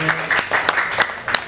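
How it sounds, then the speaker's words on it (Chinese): Scattered clapping from an audience at a small outdoor live concert in a park, a few sharp claps spread over a brief moment beneath a continuing voice. "既然大家热烈掌声那么踊跃"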